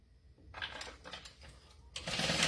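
Sewing machine stitching waterproof canvas at a 4 stitch length, a close mechanical whir that starts after a quiet moment, eases off briefly and then runs steadily louder toward the end.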